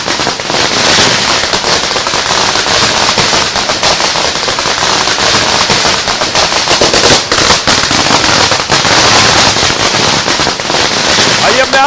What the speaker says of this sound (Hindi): देखिए जरा बीजेपी हेडक्वार्टर में किस तरह से पटाखे फोड़े जा रहे हैं, आतिशबाजी हो रही है